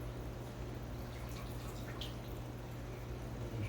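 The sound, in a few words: water draining from a hose into a bucket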